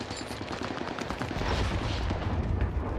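Rapid video-game gunfire from several players rattles in dense overlapping bursts during a Call of Duty Rebirth match, loud and continuous with no pauses.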